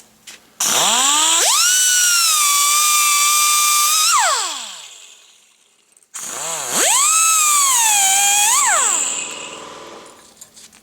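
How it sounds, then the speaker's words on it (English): An angle grinder cuts through the metal clamps on an outer CV axle boot on a Honda, two loud, close high-pitched whining bursts each spinning up, holding steady for a few seconds, then winding down. "My method is just use a grinder and it's usually cut through here."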